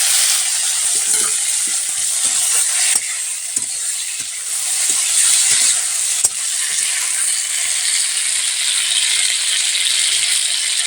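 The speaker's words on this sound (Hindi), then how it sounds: "अब अच्छे से भूंज लेते हैं, टमाटर को पूरी तरह से गला लेते हैं" Tomato masala for a small fish curry fries and sizzles loudly and steadily in a pan, with repeated scraping and clinking from stirring close by.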